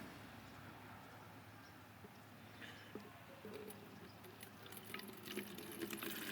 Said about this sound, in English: I always pour my soap into water